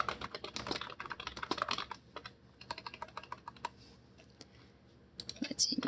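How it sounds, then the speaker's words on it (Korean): Rapid clicking keystrokes on a computer keyboard during a PowerPoint 2016 exercise, in quick bursts with a pause in the middle, close but quiet, with faint talk. "클릭하고 딜리트 키나 백스페이스 바를 이용을 해서 내용 지우시고 타이핑 해주시면 되겠습니다."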